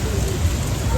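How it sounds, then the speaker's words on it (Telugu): Heavy rain pours steadily during a motorbike ride, a dense continuous hiss with low rumbling wind and road noise underneath and no clear talk. "పిచ్చ పడుతుంది వర్షం మాత్రం."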